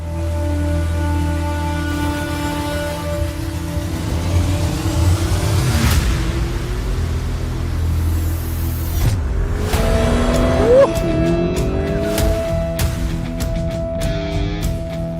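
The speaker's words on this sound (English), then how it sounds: "The Lamborghini Urus, at its peak, is exactly what I'm driving right now" Lamborghini Urus Performante SUV on the move, its engine droning steadily and revving up and down, with a sharp throttle blip and bursts near the end; loud and close, no voices.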